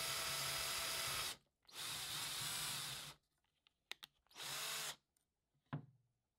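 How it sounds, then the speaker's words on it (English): A power drill runs in reverse with its bit slicing into a plastic body cap, two long whirring bursts and a third shorter one, separated by faint clicks and handling taps, close and loud. "I ended up spinning the drill in reverse so that the bit sliced the plastic"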